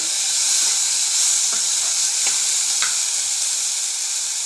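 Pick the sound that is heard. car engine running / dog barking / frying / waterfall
frying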